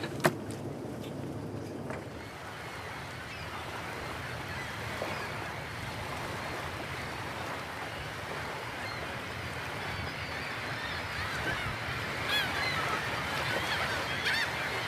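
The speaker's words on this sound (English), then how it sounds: "We are soon surrounded by a flock of gulls." A flock of gulls circles a fishing harbour in Norway, calling in scattered honking cries over a steady background wash of water and distant boat noise.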